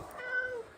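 A house cat gives a short, faint meow in a quiet indoor room.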